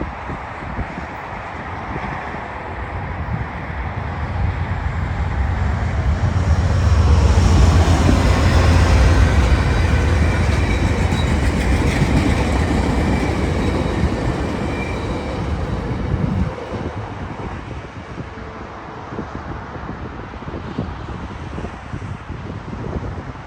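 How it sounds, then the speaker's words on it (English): A VIA Rail passenger train led by P42DC locomotive 903 with four passenger cars passes close by, a loud rumbling roar swelling and then easing as the cars clatter past, with wind noise and some wheel squeal. "It was led by Via Rail P42DC 903, and this train has a total of 4 passenger cars"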